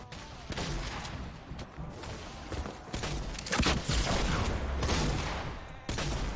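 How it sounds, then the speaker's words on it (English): Gunfire rings out in a Fortnite match, a sniper rifle crack among a dense stretch of shots and booms that carries on steadily throughout, with some sharp louder bursts. "Someone just got sniped."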